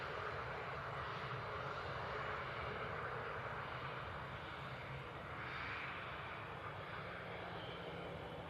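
An Airbus A220 jet at Manchester Airport gives off a steady, fairly faint engine roar that holds for the whole stretch, with slight swells and no voices over it.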